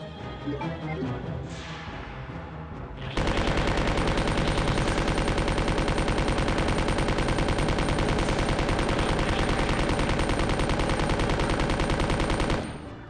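Machine gun fire in the video game Resident Evil 2, a loud sustained rapid burst lasting about ten seconds after a quieter lead-in, then cutting off abruptly.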